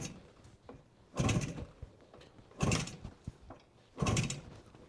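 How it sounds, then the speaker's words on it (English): Three firm kicks on the starter of a 1970 Suzuki T350 motorcycle, each a mechanical whoosh and clunk about 1.5 seconds apart, close by, with the engine not catching. "Let's kick this sucker a few times"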